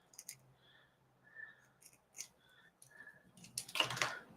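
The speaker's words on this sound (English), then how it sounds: "So I'm just going to run my scissors across there." Scissors snipping and sliding through a paper packet for a paper crafting kit, a few soft close-up cuts followed by a louder rustle of paper at the end.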